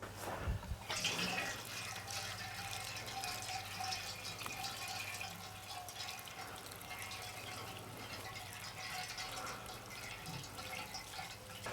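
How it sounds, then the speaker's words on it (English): Water is poured over two freshly repotted crepe myrtle plants outdoors, making a steady, continuous splashing trickle that runs the whole time with no talking. "I'm gonna give them both the water."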